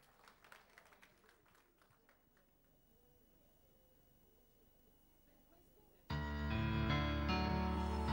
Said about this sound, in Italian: Un applauso ad Amalia